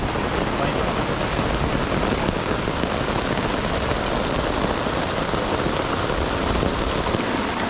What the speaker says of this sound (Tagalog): Naabot kami ng unos dito sa gubat mga ka-adventure ni Kahasang.